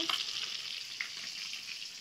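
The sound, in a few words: fish frying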